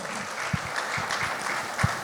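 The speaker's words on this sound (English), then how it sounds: "Big round of applause to Mahesh sir." Steady audience applause at a leadership fireside chat on civil services and education, a dense wash of many hands clapping at moderate loudness with a few sharper claps standing out, continuing evenly for about two seconds.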